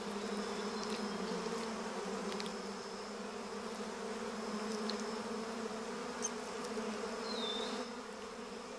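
Giant honey bees massed over their exposed comb give off a steady, even drone, a soft continuous hum with occasional single wingbeats passing close, and no voices over it.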